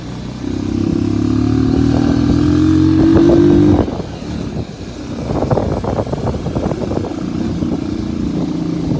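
A motorcycle rides along with a loud steady engine drone that holds a rising pitch, then drops off before a rougher, fluttering engine and wind noise continues, close and prominent.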